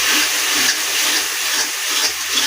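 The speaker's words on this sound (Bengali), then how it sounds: "আমি আর একটু জল দিয়ে দিলাম" Water hits a pan of frying spice paste for meat, setting off a loud, sustained sizzling hiss that bubbles close by with no voices.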